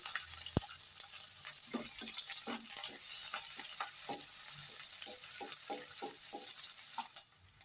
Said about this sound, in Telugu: ఉల్లిపాయ ముక్కలు వేసుకుంటున్నానండి